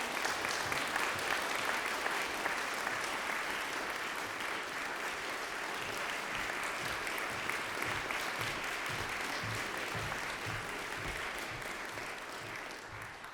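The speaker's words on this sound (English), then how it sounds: "Let's give a big Music Institute of Chicago round of applause for Kay Love the poet." Sustained audience applause for a poet at a Music Institute of Chicago evening concert, a dense even patter of many hands clapping steadily throughout without pause, with no talk over it.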